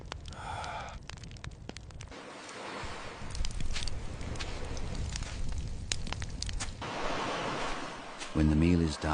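Ocean surf washing onto a shore, a broad hiss that swells and recedes over several seconds and is mixed with crackling fire, wind and footsteps, with brief tonal music or voice near the end.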